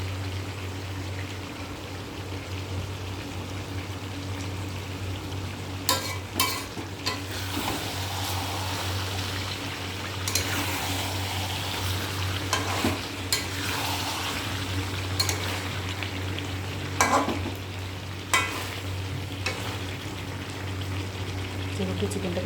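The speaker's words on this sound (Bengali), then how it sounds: "আলুগুলোকেও দিয়ে দিয়েছি, চিকেনের সঙ্গে কষা হয়ে যাবে" Potato chunks stir-fry with already-fried chicken pieces in a pan, a steady low sizzle over a constant background hum, broken by repeated sharp clatters of stirring against the pan.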